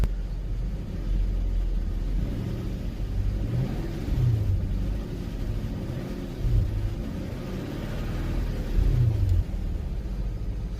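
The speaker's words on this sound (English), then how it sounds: "Alright, so we just turned the car on." A 2000s Infiniti M45 with a VK45DE V8 engine idles nearby with a steady low rumble, occasionally swelling as it revs slightly.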